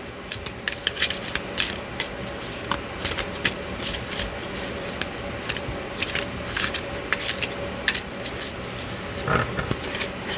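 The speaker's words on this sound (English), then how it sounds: "Shuffle them all up." A deck of cards is shuffled close up in a quiet room, giving a long run of crisp riffling bursts and soft rapid flutters that repeat with a steady rhythm, with no talk over them.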